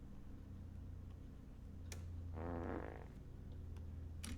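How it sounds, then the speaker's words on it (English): Fart sound effect dropped into a livestream, a brief flappy, rumbling burst in the middle standing out over steady background hum, with no talking. "Why did you put a fart sound effect in there?"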